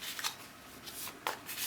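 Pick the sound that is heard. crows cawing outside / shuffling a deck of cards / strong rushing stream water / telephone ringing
shuffling a deck of cards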